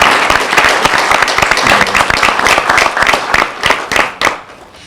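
An audience at a university branding panel breaks into loud, close applause, a dense rattle of many hands clapping that holds steady for several seconds before thinning out into a few scattered final claps.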